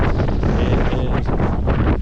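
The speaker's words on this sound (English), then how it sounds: "This wind is just holding them up." Strong wind roars over a duck hunting marsh, a loud, steady buffeting rush battering the microphone with no talk.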